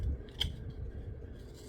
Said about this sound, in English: we will trim some of this excess off